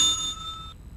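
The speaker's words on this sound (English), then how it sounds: "let's get her attention by ringing the bell" A desk service bell is rung in The X-Files video game, a single bright metallic ding that rings and decays over about a second, heard alone.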